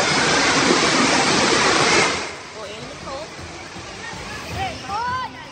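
Strong floodwater rushing through Rodriguez, Rizal during heavy rain, sweeping away motorcycles: a loud, dense roar for about two seconds, then fading to softer flowing water with faint distant voices.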